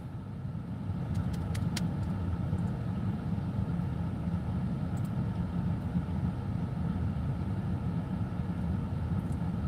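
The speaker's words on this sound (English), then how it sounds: "Mercedes AMG Black Edition." A Mercedes AMG Black Edition car engine rumbles steadily at street level, a continuous low drone that holds its level throughout, with faint metallic jingles near the start.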